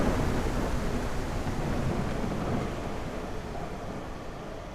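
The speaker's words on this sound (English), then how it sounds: "Thunderstorms are fantastic." A thunderstorm rolls through the Nordic forest of the Unreal Engine 5 game Jarl's Favour, a steady loud wash of rain and deep rumbling thunder that eases slightly toward the end, with no voices.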